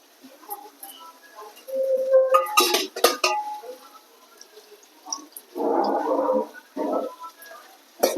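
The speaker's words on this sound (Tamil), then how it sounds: "ரசத்தை கொட்டிடுவோம்." Metal pots clank, then a short rushing splash of boiled rasam is poured out, followed by a few more light kitchen clinks.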